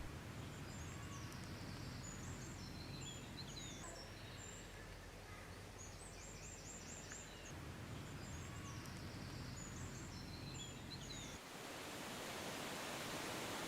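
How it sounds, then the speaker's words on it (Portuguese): The Galegos da Serra waterfall, fed by the Ribeira de Arnal and running with a winter flow, gives a steady broadband rush of water, with small birds chirping intermittently over it before the sound shifts near the end. "A cascata de Galegos da Serra, alimentada pela Ribeira de Arnal, continua com um caudal de inverno."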